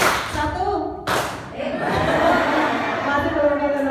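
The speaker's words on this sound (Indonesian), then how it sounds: "Tepuk satu." An audience at an in-house teacher training session at MTs N 5 Sragen claps once together in a sharp burst, repeated a second later, then murmurs and chatters in a large room.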